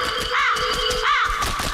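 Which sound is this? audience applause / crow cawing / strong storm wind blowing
crow cawing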